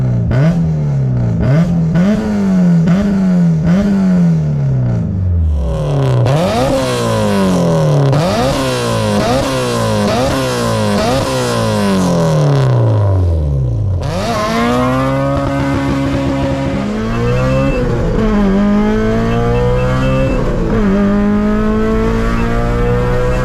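Honda S2000 AP2 fitted with a Tomei exhaust, revving hard and pulling through the gears with loud rising and falling engine sweeps, sharp shifts between pulls and a steady high-pitched wail near the end.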